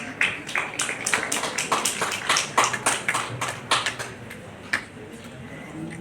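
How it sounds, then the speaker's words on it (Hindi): Scattered applause from a small crowd of hands at a university convocation ceremony in Indore, sharp uneven claps rising and thinning out, moderately close and fairly quiet. "तालियों की गूंज से उत्साहवर्धन करते रहे हमारे सभी पदक और उपाधि प्राप्त चालकों का"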